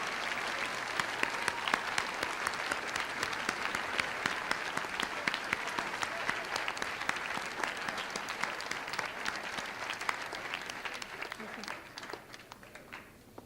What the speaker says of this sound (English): Everyone give these young students a round of applause.